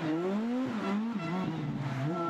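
A rally car engine rises and dips in quick pulses as the throttle and brake are worked on and off on an icy rally stage, loud and close, with a brief squeal of tires.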